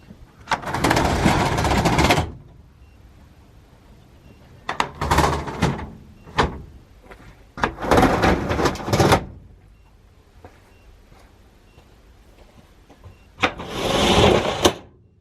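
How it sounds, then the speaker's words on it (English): Equipment lockers on a Dennis fire engine being opened, with separate bursts of loud rolling, rattling shutter noise, each lasting a second or two, broken by quiet gaps and a few sharp clunks and knocks. "Okay, so next thing we need to do is get the lockers open."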